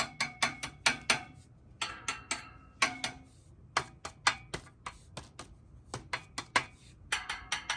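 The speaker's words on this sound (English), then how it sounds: "they kind of have a different ring sound to them" A metal air vent register's shutter being worked, a run of sharp metallic clicks and ticks in uneven bursts, close and fairly quiet, alone.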